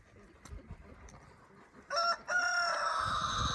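A rooster on a farm with cows, goats, pigs, sheep and chickens lets out a loud, drawn-out crow after a quiet stretch of faint farmyard background.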